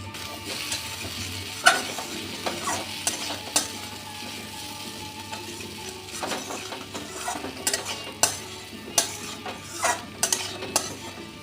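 A pan of pumpkin and egg bhujiya with garam masala and coriander leaves sizzles steadily while a spatula stirs and scrapes, giving repeated sharp clinks and scrapes against the pan over the frying hiss.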